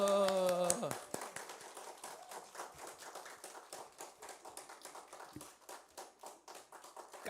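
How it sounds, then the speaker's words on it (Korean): A church congregation claps along during a Sunday worship service. A sung note fades out, then steady rhythmic clapping continues, moderately loud and even. "박수."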